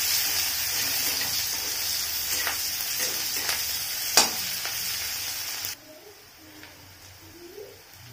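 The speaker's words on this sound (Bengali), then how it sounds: "পেঁয়াজটা ভাজা হচ্ছে" Chopped onion sizzles in oil with panch phoron, cooking for a vegetarian spinach dish; a steady loud frying hiss with a few stirring clicks drops abruptly to a quieter sizzle partway through.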